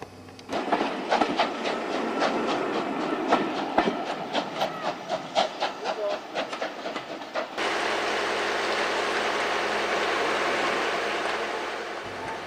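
Steam train at a platform, with a rhythmic rapid clickety-clack of wheels and a hiss for several seconds before giving way to a steady, broad rushing hiss.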